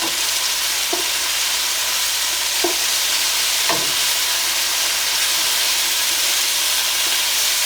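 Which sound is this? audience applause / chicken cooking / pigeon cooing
chicken cooking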